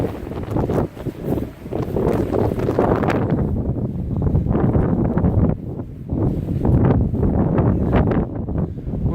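Strong wind blows across an abandoned rural property in France, a loud, continuous gusty rumble buffeting the microphone for the whole stretch, with no voices.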